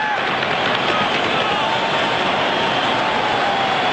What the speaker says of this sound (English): Well, they aren't quiet, they're baying.